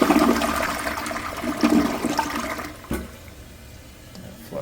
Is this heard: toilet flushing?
yes